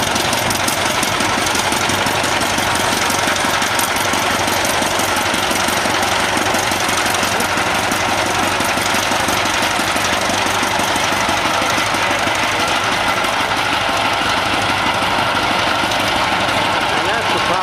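A heavy vintage Pioneer tractor engine chugs loudly and steadily nearby at a tractor show, its rhythmic knocking beat continuing without a break.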